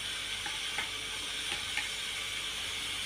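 Chopped onion hits hot oil in a kadhai and sizzles steadily, a close, continuous crackling fry with faint scraping stir sounds.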